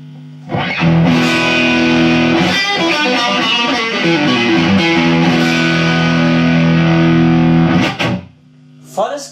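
Electric guitar on the neck pickup pushed through a GrooveTone HotRod amp at full gain, loud and thick with distortion, holds a sustained chord that rings for several seconds before it is cut off.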